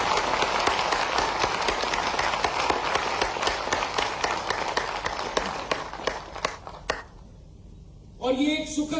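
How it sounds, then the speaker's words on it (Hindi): Dense applause from an audience welcoming the vice president at an agricultural university gathering in Gwalior, sustained steady clapping that thins into scattered claps and fades near the end before a voice begins speaking. "मैं तालियों की गड़गड़ाहट से उनका हम स्वागत करता हूं।"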